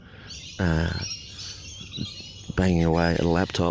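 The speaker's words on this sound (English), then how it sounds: "I'm out here in this park listening to these birds with the sun." Birds sing in a park at sunrise, their chirps and warbling calls coming through clearly. A person talks over them for much of the time, and a few louder bursts of calls stand out.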